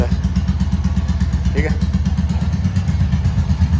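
A Royal Enfield Hunter 350 motorcycle idles loudly with its exhaust silencer removed, a deep, rapid, even thumping beat running throughout, while someone speaks briefly over it.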